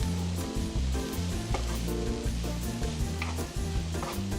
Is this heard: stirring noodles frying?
yes